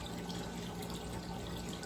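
Tap water runs steadily into a budget fish tank, a constant, close rushing and splashing that fills the whole stretch with no talk over it.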